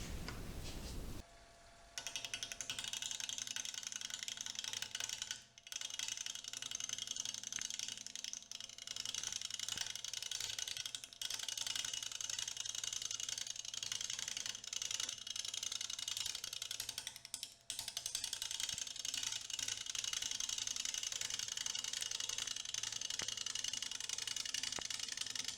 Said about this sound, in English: let's get on the lathe and trim it up and see what we're looking at